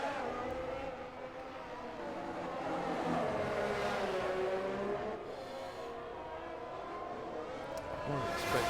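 A Formula 1 car engine in the F1 22 racing game at Monaco holds a steady, high, buzzing whine that rises and falls with gear changes, while a commentator talks over it.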